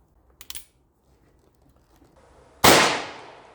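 A single sharp, loud gunshot from an Uberti SAA 1873 single-action revolver firing light Magtech cowboy-action loads, its report ringing out and decaying over about a second, preceded by a few small mechanical clicks.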